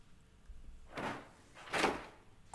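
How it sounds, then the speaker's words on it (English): A door slides open in the video game 999: 9 Hours, 9 Persons, 9 Doors, heard as two broad whooshing mechanical swells about a second apart, the second louder, over a quiet background with no talk. "The door had opened."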